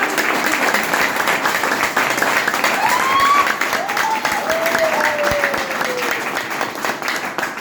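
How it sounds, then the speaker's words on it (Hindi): Loud, steady audience applause at a motivational gathering for a business network, continuous throughout with a few whistle-like tones and some voices mixed in. "एक बार बजाइए जोरदार ताली"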